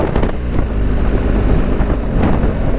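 A 2025 BMW GSA 1300 motorcycle rides along as it is shifted down through the gears, its engine drone heard under heavy, constant wind rush on the microphone.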